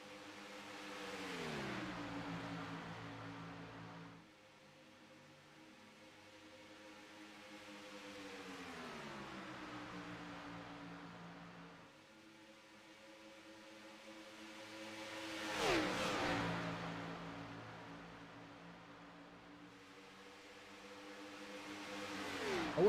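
Stock car engines, including a Chevy ZL1 Camaro, racing in the iRacing sim game, with several passes where the engine pitch rises and falls as cars sweep by, moderately loud and steady, no talk.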